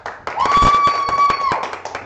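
A game show audience claps to vote, with a scattering of separate hand claps in an uneven rhythm and a sustained whistle-like tone sounding through the middle.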